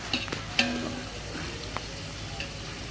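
Onions fry in a pan at home with a soft, steady sizzle, and a couple of sharp utensil clicks stand out near the start. There is no speech.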